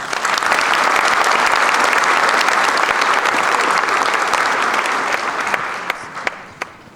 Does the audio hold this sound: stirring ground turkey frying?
no